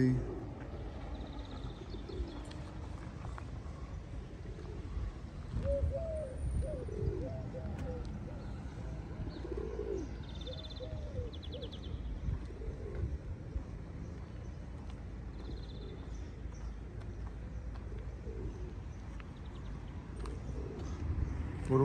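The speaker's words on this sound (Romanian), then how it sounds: "Deci porumbei." Pigeons cooing outdoors in a city, repeated soft low coos close by, with faint traffic rumble and occasional higher chirps in the background.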